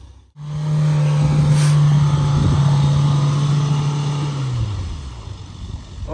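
An SUV engine revs hard and holds a steady high drone while its tires spin in deep snow, the sustained note dropping off near the end with the wheels slipping in place.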